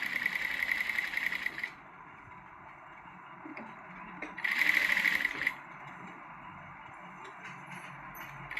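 A sewing machine stitches the side seam of a princess cut blouse in two quick bursts of rapid, steady whirring clatter, the first lasting nearly two seconds and the second about one second, with quiet pauses between.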